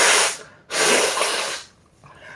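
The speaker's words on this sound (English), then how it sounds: "Feel like I got another sneeze coming off." Two sharp, breathy sneezes burst out close to the microphone one after the other, then a short gap with a softer exhale.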